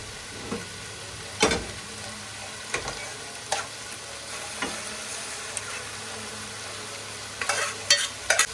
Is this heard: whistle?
no